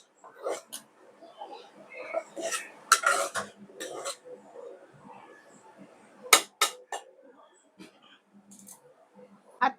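A pot of Goan wedding-style prawn curry is stirred and shaken, the prawns scraped round with a utensil in uneven clinks and knocks against the metal, close by, with short bursts of speech and a cough in between.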